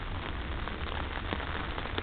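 Rain falling steadily on surfaces outdoors, a soft, even patter with scattered faint drop taps, fairly quiet and continuous.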